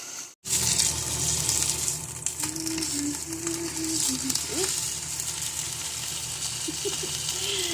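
A steak fries in olive oil in a pan in Suches, Georgia, with a loud, steady hiss and sizzle and scattered spitting pops, while a faint voice murmurs underneath.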